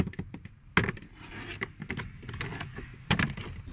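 A pry tool working a plastic blower motor cover held by retaining tabs, close-up scraping, rubbing and sharp plastic clicks and snaps in irregular bursts, faint and intimate.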